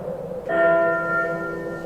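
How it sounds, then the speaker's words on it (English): A synthesizer playing a church bell sound: a single loud, bright strike that rings on with shimmering overtones and slowly fades. "apparently the bell's quite loud for him"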